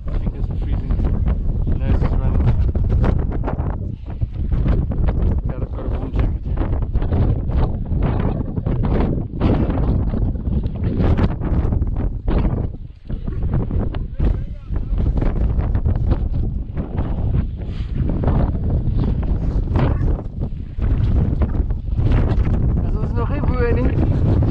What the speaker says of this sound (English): The wind is quite cold, blustery.